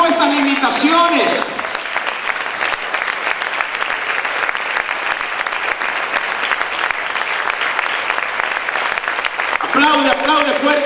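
A church congregation applauds loudly and steadily for several seconds, a thick continuous wall of clapping, while a preacher's voice is heard at the start and again at the end.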